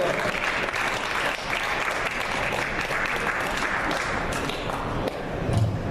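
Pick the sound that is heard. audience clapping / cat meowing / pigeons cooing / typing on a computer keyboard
audience clapping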